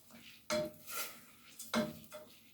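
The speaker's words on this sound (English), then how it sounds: "we're just going to stir that a little" A spoon stirs arroz con gandules, Puerto Rican rice with pigeon peas, in a pot: two faint, brief scraping strokes with soft clinks, quiet and close, with no speech.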